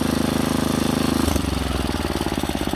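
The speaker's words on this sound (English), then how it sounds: "We go right back down to idle." A Clinton B1290 small engine, just rebuilt, idles steadily, its loud, even putter slowing and settling lower partway through, with no talk over it.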